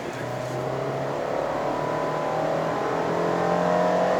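A 2020 Subaru XV GT Edition with a CVT accelerates hard from standstill in a 0-100 km/h run, its engine drone rising steadily in pitch and growing louder over a few seconds.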